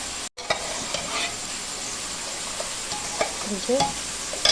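Pumpkin slices frying in a pan, a steady close crackling sizzle with occasional stirring scrapes and small clinks, briefly cut by a short gap near the start.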